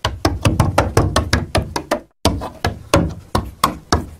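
Banjo picks worn on the fingers click and tap in a quick, uneven rhythm to mimic goblin claws as a Foley effect. Taps are close and crisp, with a brief pause midway and no talking.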